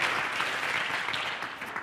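Audience applause as a speaker walks on stage at an entrepreneurship talk, a dense and steady round of clapping that carries through the whole short stretch at an even level.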